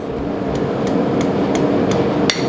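A blacksmith hammers a small rat tail scroll onto a hot forged steel marking knife, with about seven sharp, evenly spaced ringing blows over a steady roar in the background.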